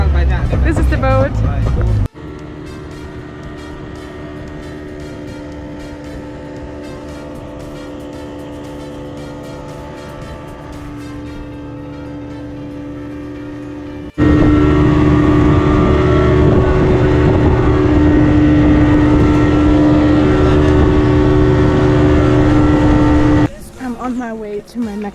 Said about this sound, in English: This is the boat.